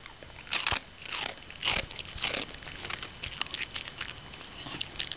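A dog crunches and chews a snack treat up close, with several sharp crunching bites early on, then a softer, quieter run of chewing and crackling.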